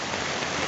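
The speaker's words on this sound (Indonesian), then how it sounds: "Dua hari ini sebagian Lamongan diguyur hujan deras dibarengi angin kencang." Heavy rain driven by strong wind pours down during a storm in Lamongan, East Java, a dense, steady hiss of downpour hammering surfaces close by with no pauses.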